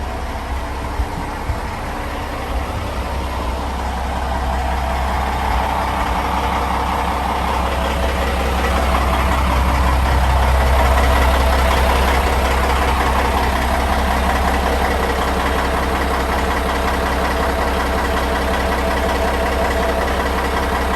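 Loud, steady low drone of a CAT C18 diesel engine idling as it warms up in an engine room, with a constant deep throb and no change in pace, no voices.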